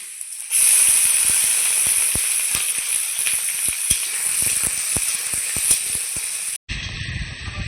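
Chicken pieces drop into a hot pan with potato, onion and chili and start frying with a loud, bright sizzle, broken by a steady series of sharp utensil taps, before cutting abruptly to a quieter moment.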